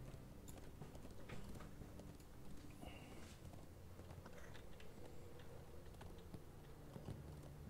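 A horse's hooves clop in The Lord of the Rings Online, a quiet, steady stream of light rhythmic footfalls under faint game ambience, without speech.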